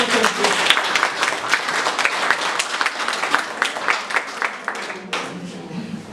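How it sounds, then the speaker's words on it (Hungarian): An audience at a 2023 Elderly Day community event in Bugacpusztaháza, Hungary, applauds warmly, a steady wash of many hands clapping that carries on for several seconds before easing off. "Nagy tapssal gondolom."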